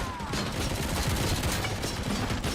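Rapid, dense gunfire in RoboCop: Rogue City, a continuous close barrage of shots with no pauses.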